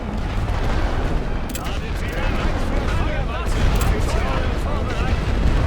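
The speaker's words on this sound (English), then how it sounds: "Artillery is now ready again. Let's bombard them to bits." Continuous artillery bombardment in a Great War Western Front battle game, dense overlapping booms and crackling distant gunfire rumbling steadily throughout, loud and unbroken.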